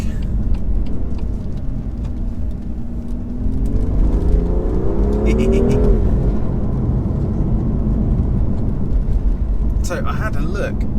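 A 2019 BMW M2 Competition driven hard on a B road, its engine note loud and continuous with a rising whir as it accelerates, ending in a brief burst of high-pitched noise near the end.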